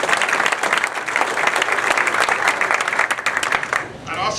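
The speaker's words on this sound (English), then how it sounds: "if you could give them another round of applause" Sustained audience applause at a town brand and website launch event, dense steady clapping throughout that tapers slightly near the end.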